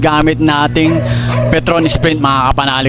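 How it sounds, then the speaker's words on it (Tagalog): A pet dog barks and yips loudly in repeated bursts close by, while someone talks over it during a scooter oil change. "Pasensya na kayo sa ingay ng aking mabait na aso."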